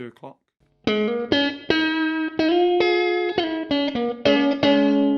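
Electric guitar notes and chords ring out one after another, each strike sustaining with a washy reverb tail that blends into the next.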